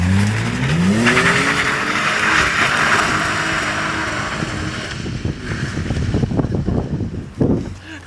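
A Toyota Mark II's engine revs hard and rises in pitch while drifting, then tires squeal and skid loudly as the car struggles, all close and continuous.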